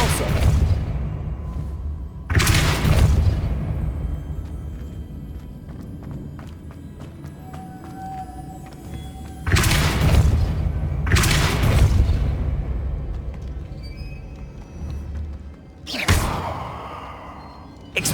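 Depulso spells cast in Hogwarts Legacy land as a few loud, sudden whooshing blasts spaced several seconds apart, each a short broadband burst over a low, steady game ambience.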